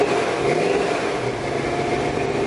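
A 1984 truck engine running rough and rich at a fast idle while warming up, with a steady, close mechanical drone and slight surges throughout.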